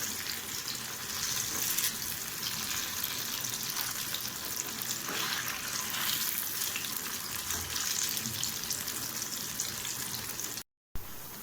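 Crispy yam slices frying in hot oil in a South Indian kitchen, a steady dense sizzle running throughout with occasional stirring, close and even in level, with a brief dropout near the end.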